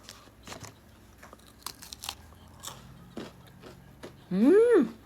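Close biting and crunching of a peanut cookie, several crisp crackling bites and chewing sounds spread over a few seconds, followed by a brief louder burst near the end.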